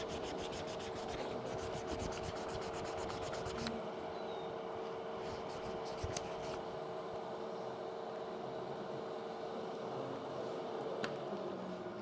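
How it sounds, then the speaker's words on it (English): Steady, quiet scratchy rubbing of sandpaper by hand on wood during a woodturning club demonstration continues throughout, with a faint hum underneath and a few small clicks. "sanding by hand to get that last bit off."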